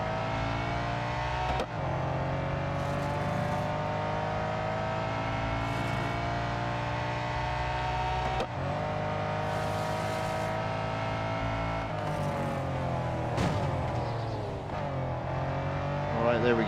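Race cars in the Real Racing 3 video game roar at full throttle, engine pitch climbing and dropping sharply with each gear shift, loud and continuous, with a faint voice at times.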